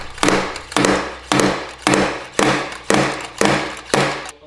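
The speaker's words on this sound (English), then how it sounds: "We actually ended up using slide hammers from a PDR kit." A slide hammer from a paintless dent repair kit is yanked against a Lamborghini Murcielago body panel, giving eight loud, sharp metallic clacks at a steady rhythm about every half second, close up and with no talking.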